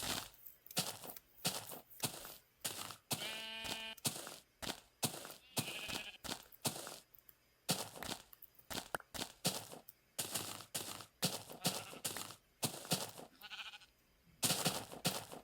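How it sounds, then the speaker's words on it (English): Sheep bleating in Minecraft Beta 1.7.3, a short blocky bleat sounding once amid busy game noise, clicks and footsteps, with no one talking over it. "Hey, I see some sheep."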